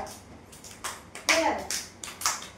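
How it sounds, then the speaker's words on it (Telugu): Children clapping their hands behind their backs, a handful of sharp, separate claps at uneven intervals, with children's voices speaking around them. "ఈ పక్క వెనక్కి క్లాప్స్ కొట్టండి"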